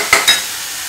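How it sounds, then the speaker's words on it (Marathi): Onions being stirred and sautéed in a pan for Maharashtrian methi pithla, with two quick scraping stirs over a soft, steady sizzle close by, no voices. "तर आता कांदा आपल्याला सोनेरी रंग येईपर्यंत छान परतून घ्यायचा आहे"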